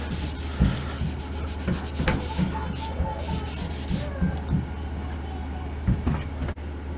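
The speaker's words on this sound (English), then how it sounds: "I'll know where I need to sand a little bit more" Sandpaper rubs over the wooden fore-end of a M1912 Norwegian Krag carbine in repeated short strokes, close and scratchy with small knocks and handling noises between passes, and a voice briefly heard at times.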